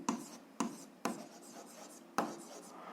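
A pen writes out a math solution on paper, giving a few sharp taps and soft scratchy strokes at a close distance, with quiet pauses between them.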